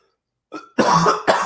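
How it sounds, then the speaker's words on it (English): A short, close burst of harsh coughing: a small throat sound, then two heavy coughs in quick succession. "just coughing up a storm"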